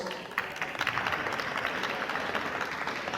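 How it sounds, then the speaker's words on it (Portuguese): Sustained audience applause at a 2018 entertainment-industry congress in Brazil, dense steady clapping from a large crowd filling the hall for several seconds. "que recebe o carinho e os aplausos de todos."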